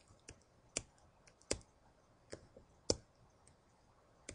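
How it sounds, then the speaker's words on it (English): Sparse, quiet clicks of someone typing on a computer keyboard, a handful of separate keystrokes at irregular intervals with near silence between them. "type everything else in."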